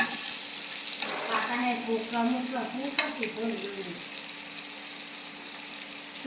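Eel fish sizzles and fries steadily in a hot wok, with stirring scrapes and clatter partway through; a voice hums briefly under the cooking noise.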